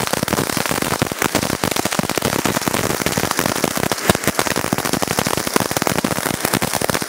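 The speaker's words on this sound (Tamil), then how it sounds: "பீகாக்கோட டைமிங் எப்படி இருக்கு, இந்த வெடி எப்படி இருக்குன்னு உங்களுக்கு டெஸ்டிங் வீடியோ இதுல பாக்க போறீங்க நீங்க" A peacock firecracker from Sivakasi bursts in a rapid, dense string of sharp crackling pops, loud and continuous throughout, with no voices over it.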